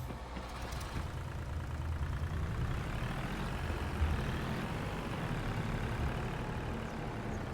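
Heavy Volvo truck engine in Farming Simulator 25 running at a steady idle, a continuous low rumble that stays even and moderately loud throughout with no talking.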